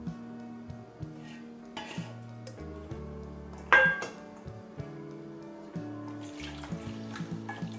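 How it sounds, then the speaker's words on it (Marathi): Abai bean pods being rinsed by hand under a running kitchen tap, with a steady trickle of water and occasional knocks against the sink, heard up close with no talking. "प्रत्येक शेंग अशी व्यवस्थित धुवून घ्यायची।"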